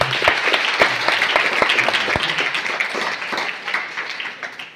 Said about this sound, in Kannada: ತಾವೆಲ್ಲ ಚಪ್ಪಾಳೆ ಬಾರಿಸಿ